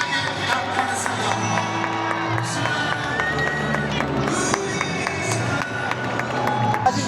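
A stadium crowd at a football match makes a broad, continuous roar of cheering voices, with sustained chant-like tones and scattered clapping and whoops rising and falling throughout.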